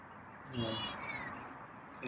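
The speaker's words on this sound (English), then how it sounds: "I think that was meow." A feral cat gives a single short, faint meow midway through, against quiet indoor room noise.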